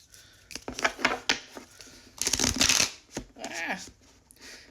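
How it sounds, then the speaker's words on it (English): An oracle card deck shuffled by hand, giving crisp close riffles and slapping bursts in quick succession, loud and near. "Let's go ahead and shuffle."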